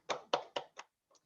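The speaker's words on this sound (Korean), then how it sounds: "대박 박수 좀 쳐보세요" A few participants in a Korean leaders' Zoom meeting clap their hands: four quick, separate claps close to the microphone, then a faint fifth after a short pause, all within about a second.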